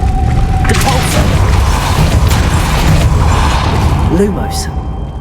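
Depulso force spell in Hogwarts Legacy, a dense splintering, clattering burst of wood and mechanism noise lasting several seconds, with a voice talking through part of it.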